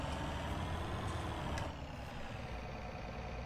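A John Deere T560 tractor in Farming Simulator 19 reverses with a steady, droning engine hum that is heavier at first and eases slightly partway through, with no voices.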